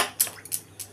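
Spices being stirred in a cooking pan with panch phoron, giving a few short metallic scrapes and clinks of utensil against pan, close and fairly quiet.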